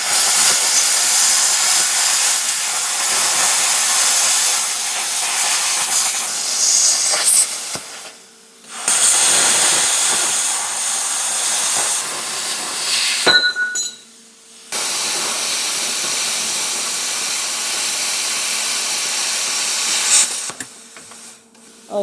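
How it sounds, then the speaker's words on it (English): A plasma cutter slices metal in three long, loud, steady hissing bursts separated by short pauses, close by and with no talking. "Let me get the plasma cutter out."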